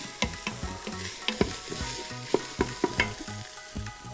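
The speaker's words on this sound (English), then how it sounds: "We want to cook it. We want to get the acidity out of the tomato paste." Tomato paste sizzling and frying in a pot while being stirred for boeuf bourguignon, a steady crackling hiss broken by regular scraping strokes of the spoon, close and moderately loud with no talk.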